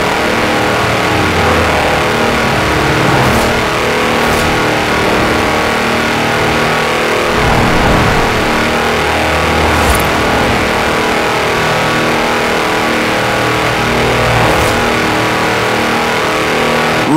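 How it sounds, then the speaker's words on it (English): A tractor on squishy mud tyres racing flat out in Forza Horizon 4, its engine droning loud and continuous with slight rises in revs, a few brief high whooshes passing over it, no voices. "That's a new tractor speed record and some impressively fast farming."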